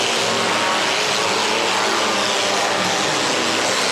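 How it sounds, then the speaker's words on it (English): A 1970 pickup truck racing on a track holds its engine at full throttle, a loud, steady roar that stays constant throughout with no letup. "Tonka Martin in that 70 pickup is going flat to the floor"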